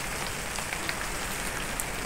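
Steady rain falls across the whole stretch, a dense even hiss with occasional brighter drop hits, heard close and alone during a rainy Diwali evening.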